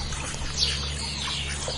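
A swan calls once with a short, harsh squawk from a large white water bird, heard briefly over a steady low background hum.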